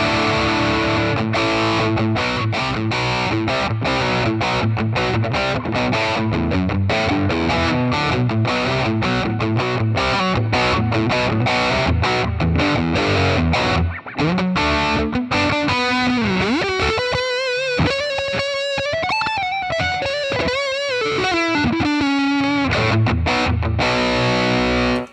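Distorted electric guitar through the JCM 900 amp model of a Joyo Preamp House, played as steady chugging riffs then a sustained bending lead, loud and continuous with light reverb.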